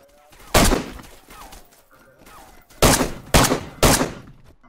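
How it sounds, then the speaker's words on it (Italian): Incoming gunfire in an online shooter arrives as one sharp shot, then a quick run of three loud cracks near the end, with quiet gaps and faint game noise between. "Mi stanno ancora sparando."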